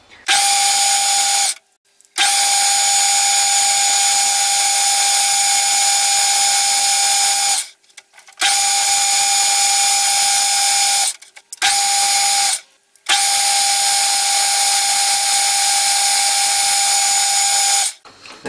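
A power drill whines steadily in several long bursts while drilling tapping-size holes in metal, stopping briefly between runs, loud and close with no talking.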